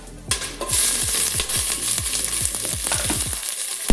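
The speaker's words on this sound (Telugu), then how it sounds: "గీ యాడ్ చేసుకున్న తర్వాత ఫస్ట్ స్పైసెస్ యాడ్ చేస్తున్నాను" Biryani spices and green chili hit hot ghee in a pan, giving a loud, steady sizzle and crackle with a run of quick popping spatters throughout.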